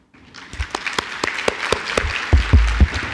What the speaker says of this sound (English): A round of applause for Nader Tehrani.